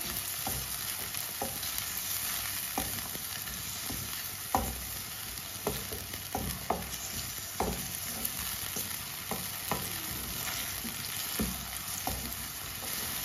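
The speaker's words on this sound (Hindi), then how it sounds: "2 टमाटर बारीक कटे हुए। 2 सब्ज मिर्च, सब्ज मिर्च को मैंने लंबे पीसों में काटा है। सब चीजों को 2 मिनट के लिए पका लेंगे।" Finely chopped tomatoes and long-cut green chillies cooking in a pan, a constant sizzle under repeated sharp spoon scrapes and taps at an irregular rhythm, close and without talk.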